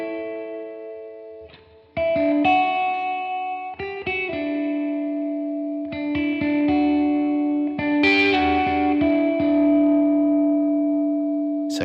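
An electric guitar on its neck pickup, played through effects, rings out sustained chords and single notes with a smooth, warm tone, chorus-like shimmer and reverb tails, with no talking.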